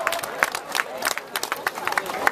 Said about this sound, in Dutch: En geef ze nog een keer een geweldig applaus.